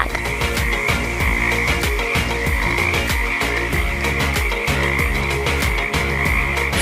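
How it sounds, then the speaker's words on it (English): A frog croaks loudly and continuously in rapid, throbbing pulses, close up and alone with no talking. "Frog."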